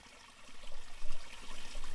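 Water rushing steadily through a deep creek beneath a long wooden bridge, a continuous close wash of flowing water that swells slightly in the middle, with no voices.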